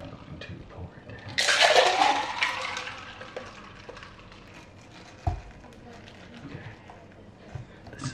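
A drink, a Starbucks beverage, poured down a drain, heard as a brief gushing rush of liquid that swells then fades, followed by quieter handling noises and a short thud, with speech around it.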